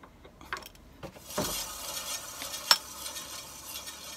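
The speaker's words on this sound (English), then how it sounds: "Well, that noise you can hear is just the new brake pads wearing in." New front brake pads on a Honda CBF 125 wearing in give off a faint scraping and rubbing, with soft irregular clicks and one sharp metallic tick.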